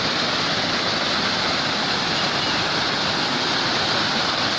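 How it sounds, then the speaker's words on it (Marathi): A loud, constant roar of rushing water from a forest waterfall, broad and unbroken throughout, heard close by with nothing else standing out. "ह्यो धबधबो जो असा रानातलो धबधबो आहे बघा"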